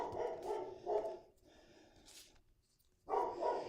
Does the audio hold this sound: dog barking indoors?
yes